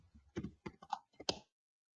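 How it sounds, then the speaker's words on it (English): Quick typing on a computer keyboard, a short faint burst of close key clicks in an uneven rhythm that stops abruptly, with no talk. "just type in Google, just type download"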